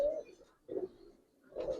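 Giribaz pigeons coo in soft, low bursts, three rounded pulses close by with short pauses between them and no talk over them.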